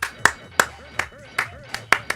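One person claps their hands to control Donkey Kong: Jungle Beat, giving about seven sharp, close claps at slightly uneven intervals, each standing alone.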